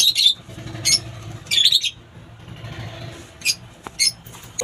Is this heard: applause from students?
no